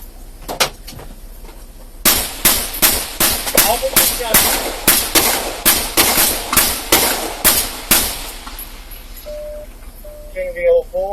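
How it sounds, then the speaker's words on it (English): A police shootout: a rapid volley of about fifteen loud, sharp gunshots cracks out in quick succession, preceded by a couple of isolated shots, with brief shouting near the end. "Shots fired, shots fired!"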